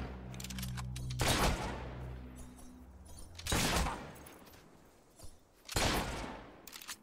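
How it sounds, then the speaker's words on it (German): Three loud bursts of rapid gunfire from the video game Fable 3, each a sharp cluster of shots, separated by a few seconds over a steady low game-like background hum. "die brauchen auch nur noch einen Schuss mit der Knarre"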